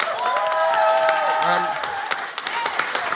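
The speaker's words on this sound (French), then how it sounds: "Applaudissez-vous." A comedy-show audience applauds itself, giving a close, continuous patter of clapping mixed with cheering voices that thins toward the end.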